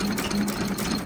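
A Ruston Hornsby AP 5.5HP stationary engine, freshly restored, chugging steadily close by with a rapid, even mechanical beat and a low droning hum, loud and unbroken.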